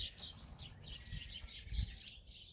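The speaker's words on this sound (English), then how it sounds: "There's fussing and fighting like these birds in the background that are chasing after each other." Birds chase each other in the background, a busy stream of overlapping chirps and tweets over a low rumbling ambience, continuous and moderately distant.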